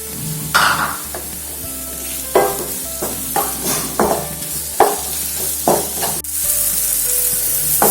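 Tomato fries in a pan with ginger, green chili and garlic. A loud, close sizzle runs under repeated scraping and stirring strokes of a spoon against the pan, with no talking.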